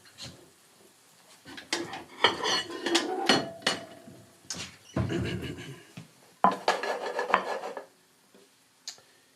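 Kitchenware being handled while a plate is fetched in a home kitchen: scattered clinks, knocks and scraping rubs of dishes and cabinets in uneven bursts close by, with short pauses between.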